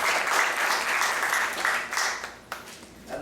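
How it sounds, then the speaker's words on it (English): Audience applause fills a temple hall during a Sunday class, a dense, steady wash of clapping that thins slightly near the end. "So let's give a round of applause for this wonderful seva they're doing"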